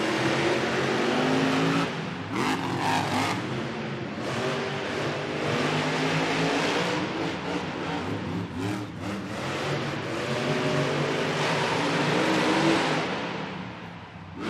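Monster trucks racing on a track inside the Tacoma Dome at a Monster Jam event, engines roaring and revving continuously with rising and falling pitch, loud and echoing in the arena, with no talking.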